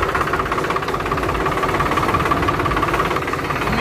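A Swaraj 735 tractor engine running steadily at a loud, close idle, a constant rumbling knock with no pauses.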